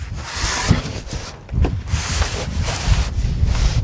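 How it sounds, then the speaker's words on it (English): Strong wind gusts across the microphone at an off-grid house build, a rough rushing roar that swells and dips in bursts, with rubbing and rustling from materials nearby. "Oh, man, it's windy."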